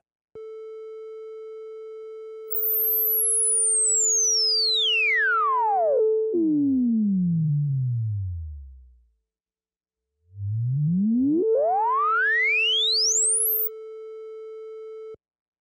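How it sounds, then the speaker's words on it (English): A Behringer Model D synthesizer holds a steady tone while its filter cutoff is swept at full resonance: a whistling peak glides down into a low growl, drops out to silence, then sweeps back up to a piercing squeal before settling on the tone. "Let's turn up the filter emphasis all the way on the Model D so we can actually hear the cutoff frequency being swept"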